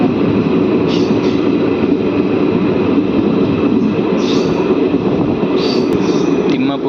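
Mahabubnagar–Kacheguda DEMU train pulling out of Timmapur station, with a loud, continuous rumble and rattle heard from inside the coach, some faint high squeals and clanks on top.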